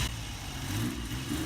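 BSA Rocket 3 three-cylinder motorcycle engine running at a steady, low rumbling idle, close by and continuous for the short stretch with no voices.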